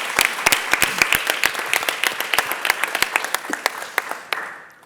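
A room of people applauds a summary at an equality conference, with brisk, sharp individual claps building into steady applause that thins out and stops near the end.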